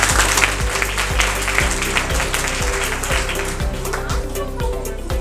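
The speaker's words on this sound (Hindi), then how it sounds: "जोरदार तालियां हो जाए।" An audience at an award seminar claps loudly, heard under steady music with a regular low beat that runs throughout.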